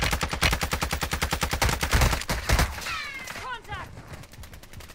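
Rapid automatic gunfire in a military shooter video game, a dense fast burst of shots up close, followed by a voice speaking and a few whizzing sounds.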